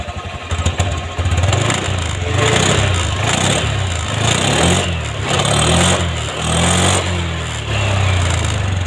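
A Honda Scoopy scooter engine being revved with the throttle, close and loud, rising and falling in repeated surges over a steady idle for about nine seconds, with no talk.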